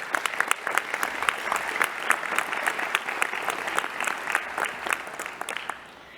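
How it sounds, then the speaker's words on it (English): Sustained applause from a graduation ceremony audience, a steady dense patter of many hands clapping that carries on without pause and tapers off at the end. "And I would like to give a round of applause."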